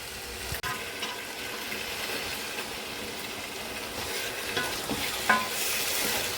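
Chicken sizzles steadily in hot oil, with occasional scraping stirs and clinks over a constant crackling hiss nearby.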